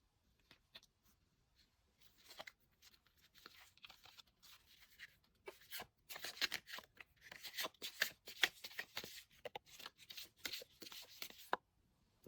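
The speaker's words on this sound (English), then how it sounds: "we will shuffle for the crystal cards as well" Crystal tarot cards are shuffled by hand in a quiet room: soft rustles at first, then a long, dense run of crisp riffling and slapping card sounds, with no talking.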